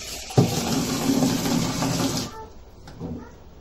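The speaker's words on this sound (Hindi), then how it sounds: "अभी तीन गलास पानी डालेंगे" Water, three glasses of it, poured into a pot of old rice in a home kitchen: a steady splashing pour for about two seconds, then quiet with a faint clink.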